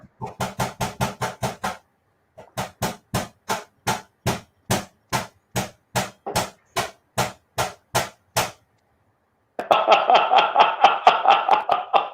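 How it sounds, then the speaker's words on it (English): Hammer blows during a kit build: sharp, evenly spaced strikes, a fast burst then a slower steady series, a brief pause, then a denser rattling clatter at the end, close and loud with no talk. "You always have use for a hammer there, Sparky."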